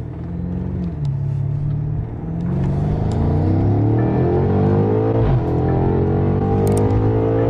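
A Chevrolet Camaro ZL1 with an automatic transmission accelerates hard, its loud engine note climbing steadily and dropping at quick gear shifts before rising again, heard from inside the car.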